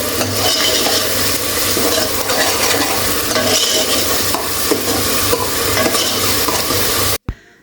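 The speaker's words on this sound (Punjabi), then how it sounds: "ਪਹਿਲਾਂ ਆਪਾਂ ਤੜਕਾ ਲੈਣਾ ਥੋੜਾ ਜਿਹਾ ਭੁੰਨ" Spices fry in hot oil as a tadka tempering, with a loud, continuous sizzle and stirring scrapes, ending abruptly.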